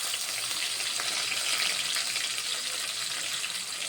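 Thinly sliced onions and green chilli pieces sizzle in hot oil seasoned with cumin and mustard seeds for coconut milk bagara rice, a close, steady, even frying hiss with no talk.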